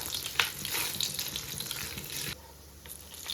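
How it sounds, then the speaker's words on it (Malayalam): Coconut pieces fry in hot oil in a pan after mustard seeds have popped, giving a steady close sizzle with a few scraping stirs, then dropping abruptly to a quieter hiss. "കടുക് പൊട്ടിയതിന് ശേഷം നമുക്ക് തേങ്ങാക്കൊത്ത് ചേർത്ത് കൊടുക്കാം."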